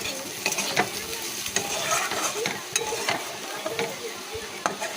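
Papaya slices frying in a pan, a steady hiss of hot oil with scattered crackles and spatters while the pieces are stirred, close and fairly loud throughout.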